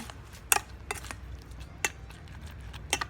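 A utensil stirs shrimp larb with lime in a bowl. Several sharp metallic clinks and scrapes against the dish come at uneven intervals over a soft, wet background, close by and fairly quiet.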